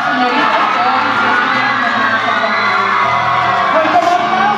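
A large crowd cheers, shouts and claps steadily at a Flor Más Bella beauty pageant in Zacapoaxtla, with a loud, dense roar that carries on throughout, with voices mixed in.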